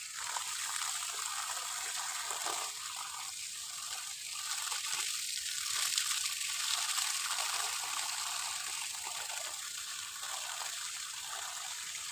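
Water streams steadily while a coffee plantation in southern Laos is watered, a soft continuous hiss and trickle that stays fairly faint throughout with no talking.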